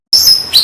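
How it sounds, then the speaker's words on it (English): A lyrebird sings one brief, loud, clear whistled note up close. It rises at the end and sounds with nothing else. "Lyrebird."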